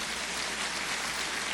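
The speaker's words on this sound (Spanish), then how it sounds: "Dele ese aplauso a Jesús y dígale gracias" Church congregation applauding, a dense and even wash of clapping that sounds much like rain and fills the short stretch without any voice over it.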